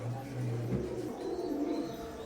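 Frightened Teddy pigeons of an Oman bloodline coo in low, throaty murmurs, a steady soft burble close by with no voices over it.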